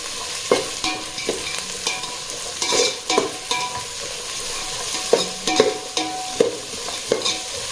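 Onions frying in a pot for beef biryani, a continuous close sizzle with repeated scraping stirs of a spoon across the pot at an irregular rhythm.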